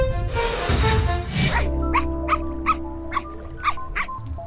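A small dog whimpering and yipping in a series of short, high, evenly spaced whines after a burst of louder noise, fairly close, with no speech.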